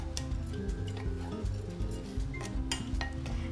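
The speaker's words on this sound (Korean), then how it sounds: "쌀을 넣고 서로가 어우러지게끔 같이 볶아주시면 됩니다." Rice stir-fried in a pot for jangguk porridge, with a spoon clinking and scraping against the pot in irregular light taps over a low, steady cooking rumble, close and without talk.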